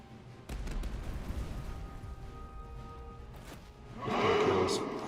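A video game cannon fires in Master of Command: a deep boom near the start, followed by a sustained rumbling roar and a louder burst of noisy blast sound toward the end.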